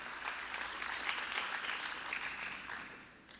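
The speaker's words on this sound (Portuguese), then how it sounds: "Aplauda nessa manhã o nome do Senhor Jesus Cristo." A church congregation applauds during a morning service, a steady, fairly quiet wash of many hands clapping that holds for a few seconds and then tapers off near the end.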